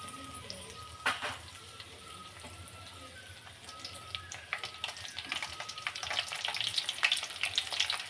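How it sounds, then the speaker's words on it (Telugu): Garlic fries in hot oil in a kitchen pan for kaaram boondi, a soft crackling sizzle that builds in intensity toward the end, with scattered sharper pops and a few stirring clicks. "ఇట్లా కొంచెం డ్రై అయ్యేదాక వెల్లుల్లి వేయించుకోవాలండి"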